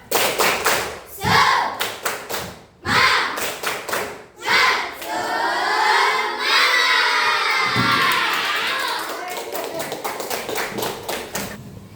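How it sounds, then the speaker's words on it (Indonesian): Primary-school class in Indonesia doing rhythmic spirit clapping, loud sharp claps in quick patterned bursts with children shouting and a teacher's voice in between. "Kita tepuk semangat dulu ya."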